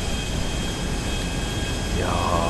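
An airplane flies in Grand Theft Auto V, its engine a steady broadband roar held loud and constant throughout, with a faint rising whine entering near the end.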